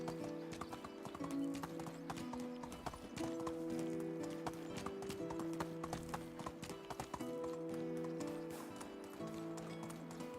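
A horse galloping in the game Medieval Dynasty, with rapid rhythmic hoofbeats running steadily under a sustained musical drone, fairly loud and close, a brief whinny in the mix.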